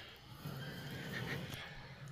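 A pig squeals and grunts in a rural Papua village setting, a steady nearby animal cry running through the whole stretch at moderate level, with no speech over it.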